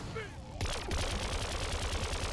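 Rapid continuous automatic weapon fire rattles steadily for a couple of seconds, game audio from Plants vs. Zombies Garden Warfare 2, moderately loud.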